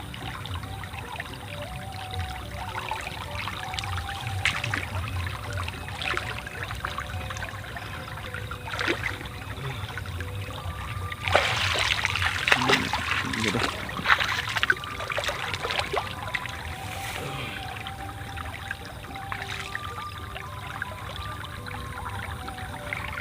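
Water pours and trickles as wild straw mushrooms are rinsed in clean water, a low continuous splashing with a louder stretch of pouring midway.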